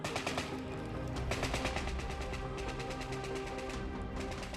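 Federal forces fire howitzers during the Nigerian civil war, a dense run of sharp, rapid reports and crackling bursts that pile up continuously over several seconds, loud and with no voices.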